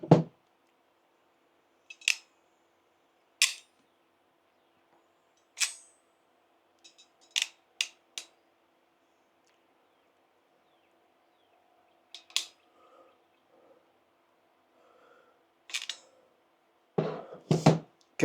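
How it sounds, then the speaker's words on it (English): Sharp clicks and snaps of a crimping tool pressing a wire connector while building a portable random wire ham antenna with a 9:1 unun, a series of about a dozen close, isolated crisp clicks spread over quiet, with a final cluster at the end. "Okay, super nice crimp"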